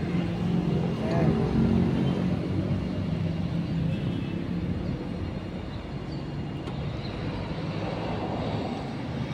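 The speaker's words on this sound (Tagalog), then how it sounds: "Ito yung jeep na uso-uso sa Davao guys." A jeepney driving along a city road in Davao, a steady rumble of engine and traffic noise with a voice talking over it.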